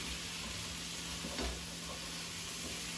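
Mushrooms frying in a pan on low-medium heat give off a soft, steady sizzle, faint and unbroken, with one light stir partway through.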